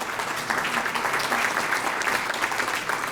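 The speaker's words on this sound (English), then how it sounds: "I understand clapping for her." A society assembly audience applauds steadily for a newly introduced member, a dense, sustained wash of hand claps filling the room at fairly close range.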